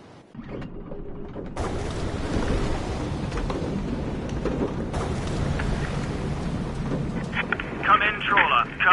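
Stormy weather in the VR video game A Fisherman's Tale: after a quiet opening, a dense wash of heavy rain and wind sets in, with rumbling thunder beneath and a higher mechanical whine near the end, while a voice narrates.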